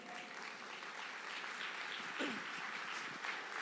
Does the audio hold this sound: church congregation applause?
yes